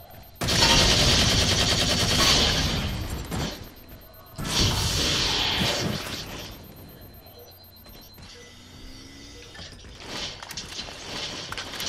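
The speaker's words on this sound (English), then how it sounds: "Let me get the needle gun!" Rapid, loud bursts of needle gun fire from the game Halo 4, two dense volleys of crackling shots separated by a short pause, followed by quieter game effects.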